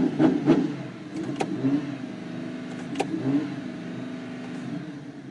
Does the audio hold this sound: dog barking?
no